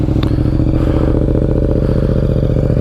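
A 2023 Yamaha MT-07 with a full Akrapovic exhaust system idles steadily close by, its dense, rapid engine pulse loud and continuous with a faint mechanical clatter.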